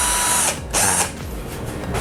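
A DELTON 99V cordless drill spins up at its second power setting, a loud high-pitched whirring motor that surges in two bursts with a short dip between, heard alone at close range.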